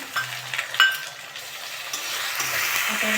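Prawns marinated in salt and turmeric hit hot oil with onions already frying, a few clinks of utensil on pan followed by a rising, steady hiss of sizzling, close and fairly loud, with no one talking.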